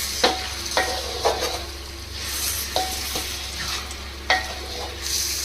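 A spoon scrapes and clanks against a kadai while biryani is stirred and mixed. Several distinct metallic knocks land over a low, continuous sizzle.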